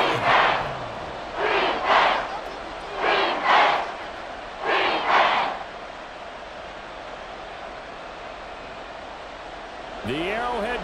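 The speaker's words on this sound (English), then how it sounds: "The Arrowhead crowd in full roar." Stadium crowd at Arrowhead roaring in the Madden NFL 24 video game, swelling in four loud surges over roughly six seconds before settling into a steady background din.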